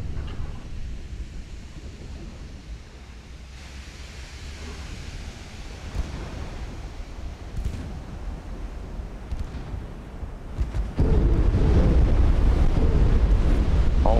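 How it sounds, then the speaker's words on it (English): Torpedoes striking a warship in the naval combat game Ultimate Admiral: Dreadnoughts: a steady rumbling wash of sea and wind noise, then a sudden swell into a loud, sustained roaring blast near the end. "Six torpedoes hit."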